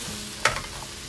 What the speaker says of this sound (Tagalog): Gisa lang natin ito